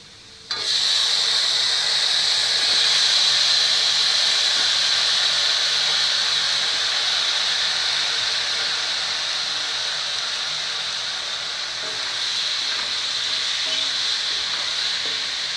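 Brinjals dropped into hot oil with fried onions burst into a loud, steady sizzle that starts suddenly and keeps up a dense frying hiss, close and continuous with no talk.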